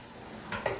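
A spoon stirs ingredients in a cooking pot on the heat, giving a soft scrape and two brief metallic clinks against the pot over a steady background hiss.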